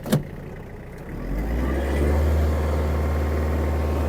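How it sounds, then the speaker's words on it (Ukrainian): A Mitsubishi MT-285 mini tractor's engine runs at low speed in low range, a steady low diesel drone that rises slightly and settles into an even hum after a brief knock at the start. "Давайте ще продемонструю мінімальну швидкість трактора."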